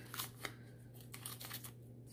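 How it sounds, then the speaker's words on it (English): A few short snips of scissors cutting vinyl tape, quiet and close, with a steady low hum underneath. "I need to cut this part. Like I have scissors"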